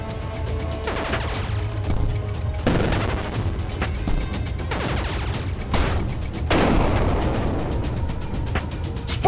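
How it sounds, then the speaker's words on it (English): Bombs go off against a boss in the mobile game Legend of the Secret, a run of loud, crunchy game explosions and impacts layered over continuous battle music, several bursts spaced a second or two apart. "Use those bombs to hit the boss,"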